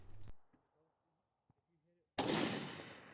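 Rifle shots at long-range targets during a shooting match: a sharp loud crack at the start, faint quiet sounds in between, then a second powerful report with a long decaying rumble.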